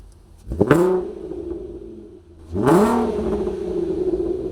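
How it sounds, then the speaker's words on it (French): An Audi TT with a VR6 R32 engine and automatic gearbox revs twice up close, each blip climbing sharply and then holding at a steady, throaty drone before easing off. "Après, le bruit du R32, ça reste toujours."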